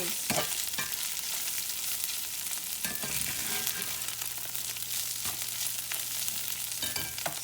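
Sausage fries in a pan for breakfast burritos, giving a steady, loud, close sizzle with occasional stirring scrapes and no talk.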